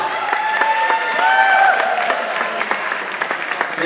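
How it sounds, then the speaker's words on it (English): A ballroom dance competition crowd applauds the competing couples with loud, sustained clapping and scattered cheers, while music with a sliding tone plays underneath and the clapping carries on steadily throughout. "Give all our couples a round of applause."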